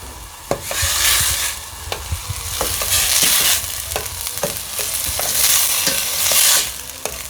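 Steady loud sizzling and bubbling as wine evaporates over a high flame in a hot pan of mushroom risotto, with occasional sharp clicks and scrapes of a utensil stirring throughout, no talking.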